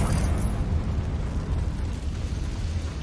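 A fiery Confringo spell blast in Hogwarts Legacy, a dense, roaring low rumble that stays loud and steady for the whole span with no voices over it.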